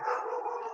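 A dog somewhere in the home gives a muffled, drawn-out bark or howl during a live online interview, brief and fairly faint with no talk over it.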